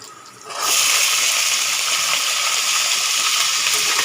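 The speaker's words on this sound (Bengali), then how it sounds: "এটাও আমি আলুর সাথে খুব ভালো করে ভেজে নেব।" Green beans drop into a pan of frying potatoes, and a loud hissing sizzle bursts in after a quiet moment, then holds steady and close, with no talking.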